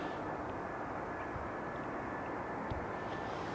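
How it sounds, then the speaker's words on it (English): An EasyJet Airbus A319 landing at Amsterdam Schiphol, runway 18R: a steady, broad jet engine roar that holds at an even level throughout, with no voices. "Here's the EasyJet A319."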